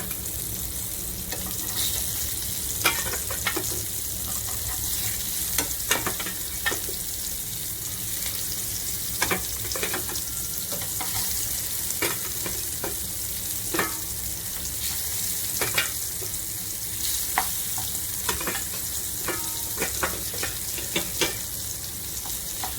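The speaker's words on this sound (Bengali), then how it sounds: "সর্ষের তেলটা গরম হয়ে গেছে, এবার একে একে এগুলো তেলের ভেতরে ছেড়ে দেব।" Pieces of elephant foot yam fry in hot mustard oil in a frying pan, a continuous loud sizzle broken by frequent sharp crackles and pops, near and without talk.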